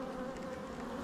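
A short burst of honeybee buzzing during a beehive inspection, a close, steady, even drone with no speech.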